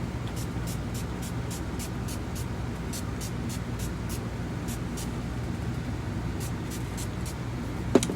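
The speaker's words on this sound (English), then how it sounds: "I'm gonna go back in with my matte finishing spray" Short hissing bursts of an aerosol matte makeup finishing spray repeat in quick succession over a steady low background hum.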